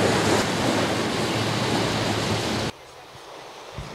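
Ocean waves rolling onto the beach at Boca Grande, a loud broad wash of surf with wind for most of the moment, then cutting to a much quieter background near the end.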